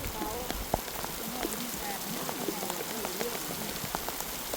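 Steady rain patters across the ground and surfaces during rice planting in a field, a continuous soft hiss dotted with scattered drops, with faint voices and birds in the distance.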